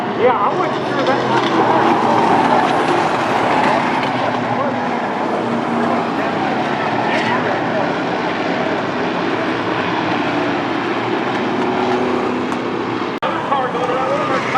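Stock cars roar around Stafford Speedway in a loud, continuous engine drone that swells and fades as the field laps the oval, with a commentator talking over the racing.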